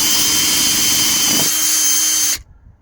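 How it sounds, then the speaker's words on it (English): A power drill bores through house siding toward a joist, a loud steady high-pitched whine whose pitch shifts slightly partway through before cutting off abruptly, with no talking. "let's see if we can complete our drill through the siding"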